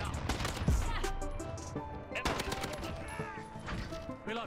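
An AN-94 rifle fires in Call of Duty Modern Warfare, loud rapid bursts and scattered shots in a dense multiplayer firefight with other gunfire and impacts throughout.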